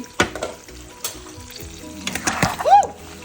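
Hot oil spitting and crackling in a pan while frying food such as golda prawns, a few sharp pops and bursts of sizzle over a quiet background, close by, without speech.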